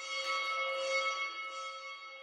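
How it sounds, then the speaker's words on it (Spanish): Steady ringing church bell tones with sustained harmonic overtones, resonant and fairly distant, lingering without a clear individual strike pattern. "Suenan las campanas pidiendo oración."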